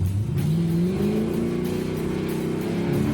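A big-block 572 V8 in a classic muscle car roars steadily under acceleration, its deep rumble climbing in pitch and sounding close and loud throughout.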